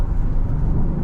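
A Genesis GV70 SUV accelerating produces a steady, muffled engine and road drone heard from inside the cabin, continuous and fairly loud for about a second.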